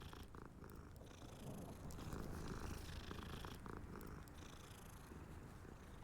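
A cat purrs steadily in Hogwarts Legacy, a continuous low rumbling purr that runs alone at moderate level throughout.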